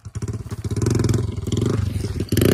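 Motorcycle engine running close and loud, a rapid rhythmic thumping idle that pulses steadily and rises briefly near the end.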